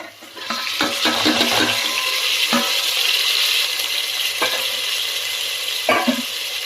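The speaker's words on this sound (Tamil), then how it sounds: "இப்போ வந்து தக்காளி சேர்த்துக்கலாம் தக்காளியும் பச்சை மிளகாவும்" Tomatoes and green chillies frying in a pan for mutton biriyani, a loud, close, steady sizzle with several sharp scraping stirs and clinks of a spoon, no speech.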